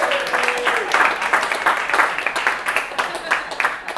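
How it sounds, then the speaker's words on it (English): Audience applause for Susan at a family party, dense steady clapping with a few cheers, moderately loud throughout, with some voices mixed in. "Let's give Susan a round of applause."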